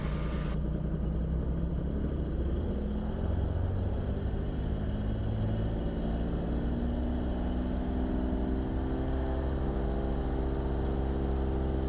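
Beechcraft Bonanza piston engine running at takeoff power, a loud, steady, continuous drone with a deep throb that holds level throughout, no voices.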